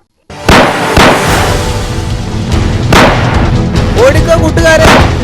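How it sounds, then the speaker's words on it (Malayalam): Gunfire in a Malayalam cartoon: a few heavy booming shots land over a dense, continuous noisy background that stays loud throughout. "ഓടിക്കോ കൂട്ടുകാരെ, വെടിവെക്കുന്നു."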